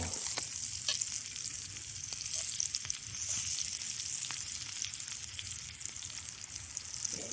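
Wild mushrooms and apples sizzle steadily in a pan over a twig stove outdoors, a constant close frying hiss with scattered small pops and crackles, no talk.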